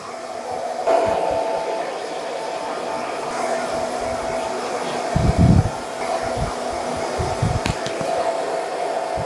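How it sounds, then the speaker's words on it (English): A hair dryer blows with a steady, loud whir throughout, while a few brief thumps and rustles break in near the middle. "if you've got the cold air function on your hairdryer"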